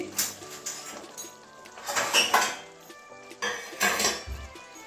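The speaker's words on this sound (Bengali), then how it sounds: "এখানে নামিয়ে নেবো একটা বাটির মধ্যে ঢেলে" A spoon scrapes and clinks against a pot while cooked drumstick and poppy seed curry is served into a bowl, with several bursts of close metallic scraping separated by short pauses.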